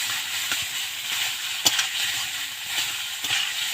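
Squeezed-dry banana stem tossed into hot oil with fried chilies for a Bengali dish: a steady bright sizzle with occasional sharper crackles and pops, close and continuous.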